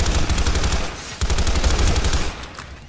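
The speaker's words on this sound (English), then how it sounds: "here's the burst weapon" A TR burst assault rifle in a video game fires rapid, loud, dense bursts of shots, with a brief pause near the middle before the next volley; no talking.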